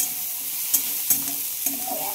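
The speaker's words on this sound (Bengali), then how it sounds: "টমেটোটা ঠিক একইভাবে আমি একটু পেঁয়াজের সাথে নেড়ে ধীরে ভেজে নেব।" Tomato and onion frying slowly in a pan with salt, giving a constant soft sizzle and three distinct scraping strokes of a spatula over about two seconds.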